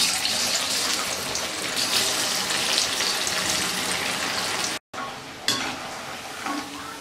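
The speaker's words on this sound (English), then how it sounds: "Once the oil is heated, now we have to add the pieces of Colocasia to it." Pieces of colocasia fry in hot oil in a pan, making a steady, loud, dense sizzle that runs almost without a break, cut by one short gap and then picking up again.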